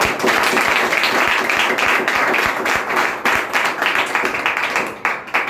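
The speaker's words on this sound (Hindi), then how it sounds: "आप एक बार जोरदार तालियां" An audience bursts into loud, dense applause at a business meeting event, many hands clapping steadily close by before thinning toward the end.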